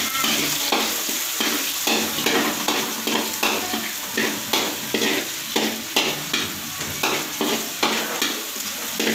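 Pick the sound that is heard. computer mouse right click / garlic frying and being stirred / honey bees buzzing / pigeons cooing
garlic frying and being stirred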